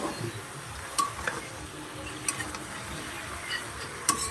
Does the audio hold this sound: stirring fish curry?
yes